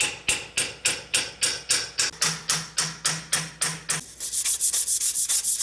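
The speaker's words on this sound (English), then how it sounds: "A hole is drilled and the cup is set onto the anvil, and here goes the hammering." Metal cup set on an anvil and hammered by an artisan, a steady run of about a dozen even blows, then faster, lighter rhythmic strikes, close and loud with no voices.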